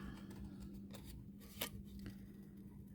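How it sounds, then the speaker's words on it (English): Scissors fussy-cut around a paper flower with quiet, close snips and soft rustling of paper, one sharper cut standing out in the middle. "it's really much easier to fussy cut if you're not turning your scissors, but rather turning the paper and just pushing down on your scissors"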